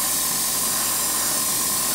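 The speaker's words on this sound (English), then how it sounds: "you're effectively spraying dots for those of you who don't know how an airbrush works" An airbrush sprays paint highlights onto foam Eldar defence-line terrain for Warhammer 40k, giving a steady, close hiss of compressed air with a faint thin tone that holds unbroken throughout.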